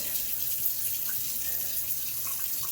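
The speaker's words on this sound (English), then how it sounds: "I'm going to turn on this cold tap water" Cold tap water runs into a cup in a kitchen, a steady close hiss of flowing water with no talking.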